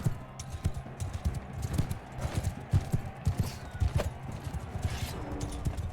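Rapid, rhythmic clip-clop of horse hooves at a gallop in the video game Mount & Blade II: Bannerlord, steady and fairly close, with no talking.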